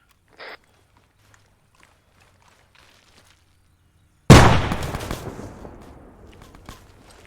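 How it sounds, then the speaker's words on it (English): A frag grenade in a military video game goes off after a quiet stretch with a few faint clicks, a single loud close blast with a sharp onset and a long rumbling decay. "I'm gonna chuck a grenade at it."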